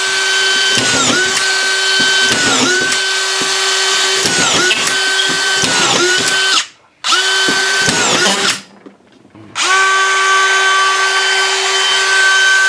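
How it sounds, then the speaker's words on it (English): A DeWalt DCF620 drywall screw gun drives a series of screws, its motor whining up loudly in repeated bursts with short pauses between, clutch ratcheting as each screw seats. "So you're going to drive the screws in, and then it's going to be just like that."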